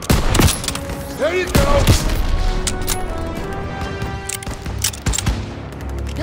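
Gunfire in the World War II battle game Call of Duty WW2, a loud, close burst of rapid rifle and machine-gun shots with booms, mixed with shouted voices and battle chatter.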